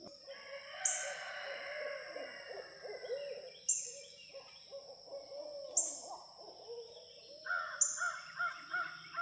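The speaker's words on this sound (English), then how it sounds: "We got a whole pile of owls down here, guys." Owls hoot repeatedly at intervals near peach trees, with loud hoots standing out over a background of other calling birds.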